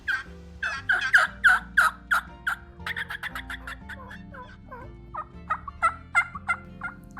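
A turkey call imitates a hen wild turkey at a calling contest, giving loud, close runs of sharp yelps and clucks in quick rhythmic bursts, pausing midway, then resuming with another series.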